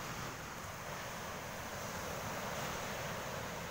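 Rough sea waves break on a seaside shore in a constant, broad roar, wind-blown and steady throughout, with no voices.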